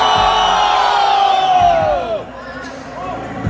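Crowd at a tattoo festival cheering and shouting loudly, a dense roar of voices with whoops rising and falling over a few seconds, close and sustained.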